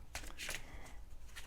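A deck of cards shuffled for a random draw, a few quick rustling riffles in short bursts, faint and close, with no speech.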